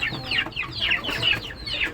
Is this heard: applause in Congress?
no